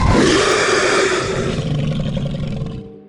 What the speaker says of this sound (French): Puis, sans crier gare, elle pousse un rugissement assourdissant.